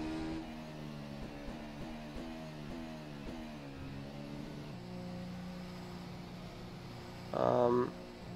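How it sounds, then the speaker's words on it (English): A race car engine in a Formula SimRacing sim at Bahrain revs and shifts through gears, rising pitch repeatedly climbing and dropping, steady and fairly close, with a brief louder burst near the end. "who selected incredible real sounds for them cars"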